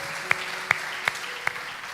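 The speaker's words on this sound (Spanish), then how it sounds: "Quiero aplaudir esta mañana al Rey de Reyes y Señor de Señores, a Jesucristo, el Salvador." Four sharp, evenly spaced claps ring out in a church service, each a crisp separate hit with a brief echo and quiet between them.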